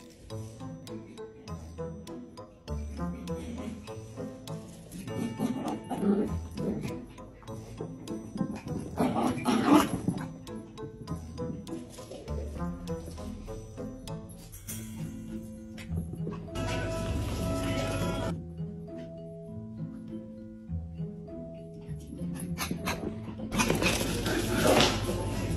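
A dog at home, left alone while its owner is at the gym, whimpers and barks in scattered bursts over about 25 seconds, close to the microphone, with louder stretches of noise in between.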